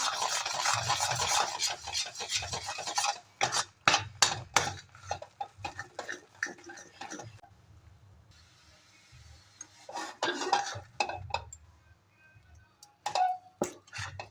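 Papad dough being mixed in a pot after steaming, with scraping and stirring strokes in uneven bursts separated by quieter pauses.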